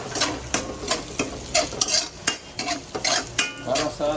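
Onion and garlic frying in a pan, stirred repeatedly so the sizzle rises and falls in steady scraping bursts, loud and close with no talk.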